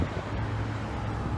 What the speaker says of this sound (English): I'm trying to let these trucks go by.